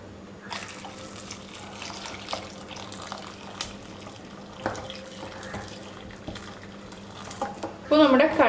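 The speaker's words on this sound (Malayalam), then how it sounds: "നമുക്കിതിലേക്ക് ചൂടുവെള്ളം ഒഴിച്ചു കൊടുക്കാം." Hot water is poured into a pressure cooker of chickpeas for chana masala, giving a steady splashing stream with light clinks and a louder clatter near the end.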